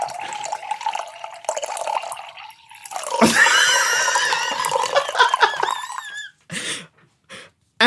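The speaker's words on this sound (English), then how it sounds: "Just pouring myself a scotch." Scotch is poured into a glass as a sound effect, a loud close gurgling trickle that rises in pitch as the glass fills, then breaks into a few short splashes and drips before stopping.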